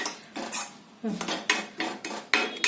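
A spoon scrapes and clatters against a pan while a sesame and jaggery mixture with crushed peanuts is stirred for laddoos, in several close, distinct bursts with no talk.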